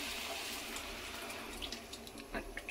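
Water poured into a pot of South Indian sambar dal being cooked at home, a steady splashing pour running throughout, moderately close, with faint background noise.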